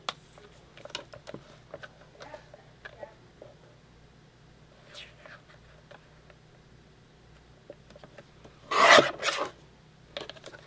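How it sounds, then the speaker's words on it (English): Paper photo trimmed by half an inch in a quiet room for a scrapbook: a short burst of rasping cuts near the end, with faint scattered handling ticks around it. "So we're going to trim about another 1/2 inch off of this one."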